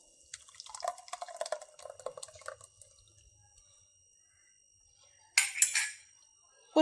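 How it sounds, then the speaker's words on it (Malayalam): Ground coconut-style paste poured into cooked cucumber in a pot, with wet, dripping splatters for a couple of seconds, a quiet pause, then a louder, thicker slosh of pouring close by. "ഇനി നമുക്ക് അരച്ച് വെച്ചിരിക്കുന്ന കൂട്ട് അതിലേക്ക് ഒഴിച്ചു കൊടുക്കാം."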